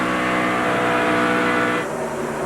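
Stock cars roar past at the 2001 NAPA 500 NASCAR race, a loud, dense engine blare that holds steady and then drops slightly in pitch as the pack moves on.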